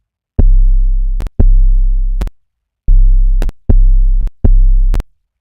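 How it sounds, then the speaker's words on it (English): A deep, pure sine wave synth bass tone from Serum 2, trap 808 style, plays five sustained notes in an uneven rhythm, each cut off with a sharp click. "you could just use the standard sine wave here"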